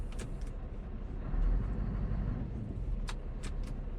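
A car pulls away with its handbrake still engaged, giving a low engine rumble that swells briefly, along with a few faint ticks and clicks from inside the cabin.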